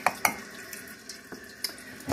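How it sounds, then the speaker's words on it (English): Hot tap water runs into a 1-cup measuring cup while hummingbird nectar is being made: a soft, steady splashing trickle with a few sharp clinks and knocks from the cup, heard close up and with no talking. "this is hot tap water"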